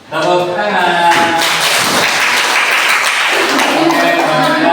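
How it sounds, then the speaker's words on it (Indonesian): Applause breaks out at a teaching-practice session of student teachers, a dense, steady clatter of many hands that holds loud and close for several seconds, with voices mixed in underneath throughout. "Tepuk tangan."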